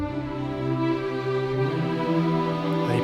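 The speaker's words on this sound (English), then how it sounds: "And then Dolce on its own sounds like this." Audio Imperia Dolce sample-library strings carry a violin line with gentle vibrato, a warm sustained tone that shifts pitch slightly, heard alone at moderate level.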